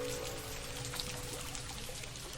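Steady rain effect with a pouring, trickling wash of water, continuous and fairly loud throughout, accompanying a storybook read-aloud with no voice over it.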